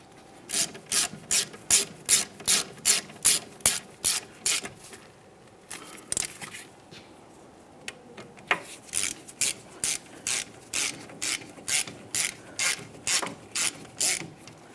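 Ratchet tightening 13mm brake caliper mounting bolts on a 2009–2019 Ford Flex, a close, steady run of rapid clicking strokes, pausing briefly midway before resuming the same regular rhythm.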